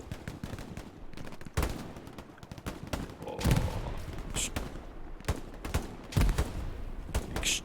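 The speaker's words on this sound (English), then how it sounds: "Bullets are exchanging." Hell Let Loose firefight with sharp rifle and machine-gun shots cracking in irregular bursts, some close and loud, others fainter in the distance, with no talking.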